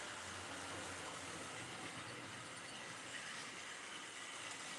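A model railway B12 locomotive runs on a garage layout, a faint, even rolling rumble with a soft hiss and no distinct clicks, steady throughout with no voices.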